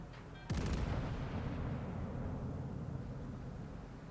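A warship's guns fire a volley of AP shells in a naval video game: a sharp, heavy boom followed by a long, rumbling decay that fades slowly, heard alone.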